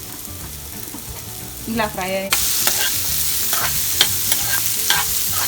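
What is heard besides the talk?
tempering frying in a pan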